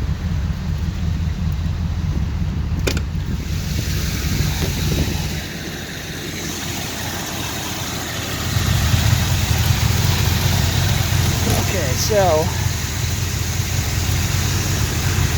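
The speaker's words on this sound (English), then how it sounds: "The engine runs good." A car engine idles steadily with a low, constant rumble throughout, dipping briefly in the middle before returning; a single word is spoken over it.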